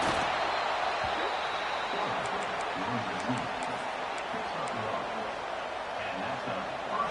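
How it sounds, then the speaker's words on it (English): A big college football crowd at Happy Valley roars on third down, a broad, sustained wall of stadium noise that stays steady throughout. "Here comes the noise from this big crowd in Happy Valley on third down."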